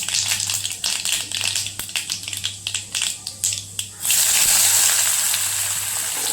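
Sliced onion hits hot oil tempered with cumin and mustard seeds for kanda poha, opening with crackling pops and settling into a loud, dense, steady sizzle, with no talking.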